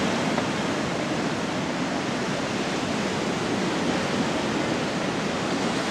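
Ocean surf at Burleigh Heads, Australia roars as a steady, loud wash of breaking waves, continuous and broadband with no voices.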